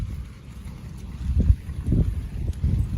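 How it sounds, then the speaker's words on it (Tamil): Strong evening wind gusts through the rain outdoors, a low rushing roar swelling and easing in several surges, close to the microphone and with no voices. "காற்று பலமாக அடிச்சிட்ருக்கு பாருங்கள்"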